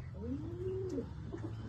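Tournament racing pigeon cooing in a single clear, rising-and-falling call close by, over a low steady background hum.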